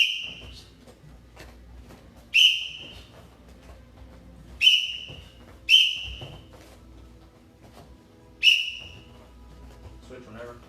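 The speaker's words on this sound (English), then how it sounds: "I'm blowing the whistle." Sharp referee-style whistle blasts cue jabs during a live hybrid kickboxing class, five short piercing blows spaced irregularly over a low background hum, each loud and close with a quick decay.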